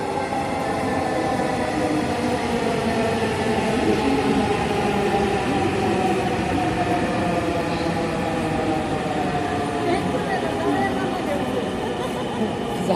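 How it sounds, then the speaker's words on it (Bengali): A metro rail train arrives at Uttara North station with a loud, steady rumble and rising hum that fills the platform, and people talk over the noise. "ওই তো মেট্রো রেল আসতেছে।"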